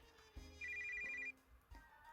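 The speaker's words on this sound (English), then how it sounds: "The sound of my phone interrupts." A mobile phone rings indoors as a steady electronic tone, heard once briefly, then sustained for under a second, with soft thumps around it and no voices.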